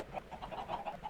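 Chickens in the Minecraft video game clucking in a short run of soft, repeated calls, fairly quiet and steady over about a second, with no talk.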